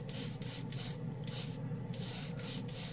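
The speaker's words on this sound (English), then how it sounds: "I switched over to a different airbrush." Paint mixed with leveling thinner hisses out of an airbrush in close, steady bursts, each lasting a fraction of a second and broken by brief pauses as the trigger is released, laying on light coats with no talking.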